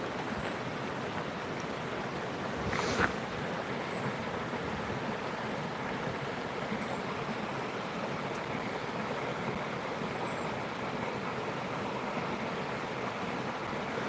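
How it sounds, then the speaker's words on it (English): Wind blows outdoors as a steady broadband whoosh with a low rumble, continuous and moderately faint, with one brief knock partway through and no talking. "damn wind's kicking up now."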